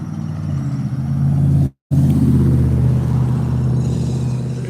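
A car outside on a street rumbles steadily as it pulls away and accelerates, a close, loud engine drone with a brief dropout partway through.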